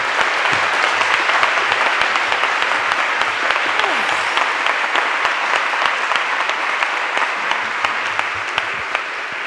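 A seated audience at a literary talk applauds to welcome author Reni Eddo-Lodge, producing dense, sustained clapping from many hands that fills the room evenly and continues at full strength without a break.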